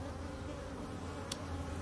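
A steady, low buzzing of many bees humming together, faint and continuous, with no voices.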